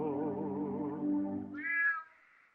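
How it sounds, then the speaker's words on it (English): A cat meows twice, close and clear: first a long, low, wavering yowl, then a shorter, higher-pitched meow that fades out, with no one talking. "Love that kitty cat."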